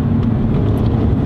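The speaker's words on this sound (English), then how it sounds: "The engine drops down a couple of gears." Mercedes A250 engine in sport mode downshifting, a loud, steady low rumble of engine and road noise filling the whole short stretch.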